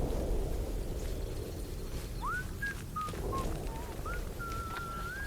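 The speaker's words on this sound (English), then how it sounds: "I'm really glad everybody whistles here." A person whistles a short series of rising and wavering notes in the video game Atomfall, heard a little way off over a low ambient rumble.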